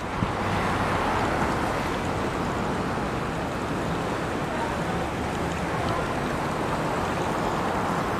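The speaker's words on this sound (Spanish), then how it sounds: "Muy apacible el mar" Calm sea waves in a sheltered bay at Playa Balandra, Baja California Sur, at sunset: a steady, soft wash of gentle surf, even and continuous with no distinct breaking crashes, close by.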